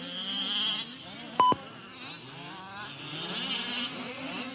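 Fifth-scale buggies race around a track, their small engines giving off a steady, distant drone that rises and falls as they circle, with a short beep sounding partway through.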